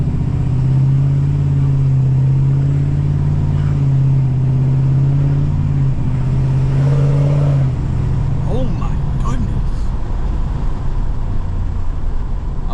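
Tuned 6.7 Powerstroke diesel pickup truck on a 650 whp limiter tune accelerating hard in third gear, a loud sustained engine drone rising in pitch with rumbling exhaust, then easing off near the end as a voice speaks briefly.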